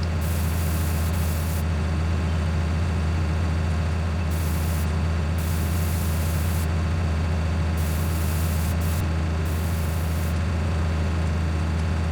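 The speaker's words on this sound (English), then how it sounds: "you just can go as fast as your tractor can stomach with this milling machine" Tractor hauling a milling machine in Farming Simulator 19, a continuous low engine drone under a broad, hissing mechanical noise that holds steady throughout, with no voices.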